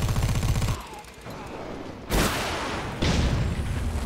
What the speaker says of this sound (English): Somebody else shooting him over there.